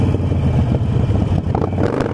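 A motorcycle engine, with newly fitted clutch plates, is throttled hard during a wheelie, a loud, close, continuous growling rev lasting a couple of seconds.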